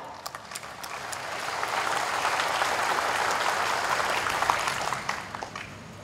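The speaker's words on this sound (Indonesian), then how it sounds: "tepuk tangan untuk Poltek PIN Indonesia" Applause from a gathered crowd greeting Poltek PIN Indonesia cadets at a morning assembly, swelling to a steady full roar then thinning into scattered claps.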